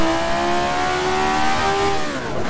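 Race car on the Ahvenisto circuit in a racing game, near and loud, its engine holding a high sustained whine before the pitch falls and climbs again briefly near the end, with no voices.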